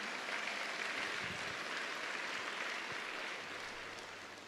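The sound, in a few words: audience applause at a church gathering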